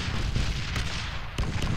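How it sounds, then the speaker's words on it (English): A big cannon in a video game fires during a firefight, a few heavy booming shots that land over a constant rumbling background, with no voices present. "Hey, we got a big gun firing on."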